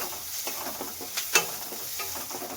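Grated ginger fries in oil alongside onion for a sweet corn and potato curry, with a soft sizzle, light stirring scrapes and a brief sharp clink.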